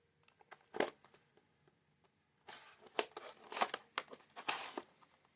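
Scissors snip and cut through plastic Beyblade X Reaper Incendio T 4-70K packaging, giving sharp crinkling and tearing bursts, sparse at first then a denser run of close, crackling cuts.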